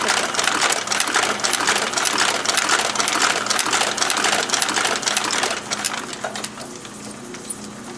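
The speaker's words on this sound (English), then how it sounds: "and start stitching" A straight needle sewing machine with an awl stitches in a rapid, busy mechanical clatter, loud and close, easing off slightly toward the end.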